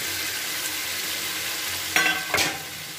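Boiled jackfruit frying in oily spiced masala with Kashmiri chilli powder for a Bengali jackfruit-and-prawn dish: a steady close sizzle, then two sharp scraping stirs near the end.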